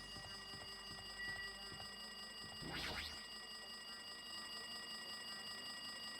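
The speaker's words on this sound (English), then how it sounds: "It looks like that phone is ringing." A video-game telephone rings with a harsh alarm-like ringtone, a rapid mechanical rattling trill that swells briefly in the middle over a constant buzzing hum.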